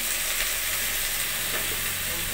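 Onion paste frying in a hot pan for a home-cooked meal, a steady close sizzle and hiss that holds unbroken throughout with no voices.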